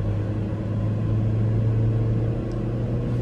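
A Ford Ranger XLS 2.2 turbo diesel pickup accelerating uphill with a steady, loud, close diesel drone that holds an even pitch throughout, with no talking.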